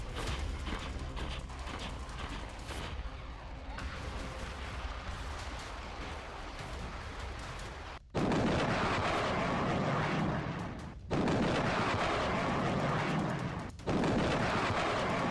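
Russian army artillery shelling in Ukraine sounds as a sustained, loud roar of heavy fire and blasts, with dense bursts that cut out abruptly and resume in a few sharp breaks.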